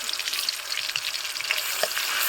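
Ginger and onion paste with bay leaf and garlic paste frying in hot oil for a Bengali fish curry, a close, continuous sizzle with scattered crackles and light stirring.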